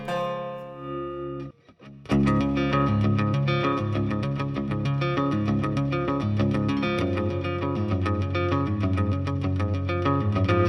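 Fender Acoustasonic Jazzmaster guitar riff with effects, a few ringing sustained notes and a brief pause, then a loud driving, rhythmic riff of repeated chords played alone.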